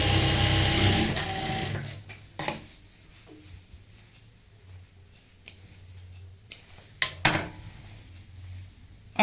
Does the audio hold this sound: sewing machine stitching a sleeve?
yes